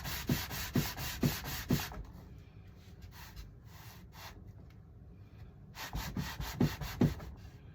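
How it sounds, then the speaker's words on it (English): Rhythmic rasping strokes of sandpaper rubbing over a model aircraft's wooden wing, a quick run of back-and-forth passes, a quieter pause, then another burst of close sanding. "Sanding it in the wing"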